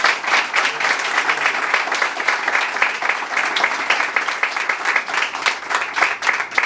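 Sustained applause from a Christian congregation praising the Lord, dense steady clapping with a faint voice over it, continuing evenly throughout.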